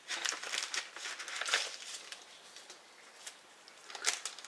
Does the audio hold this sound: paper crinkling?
yes